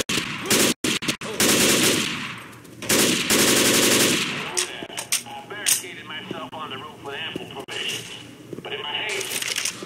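Assault rifle gunfire in the video game Left 4 Dead 2: loud bursts of rapid automatic shots in the first half, followed by scattered game noises and clicks. Players talk over parts of it.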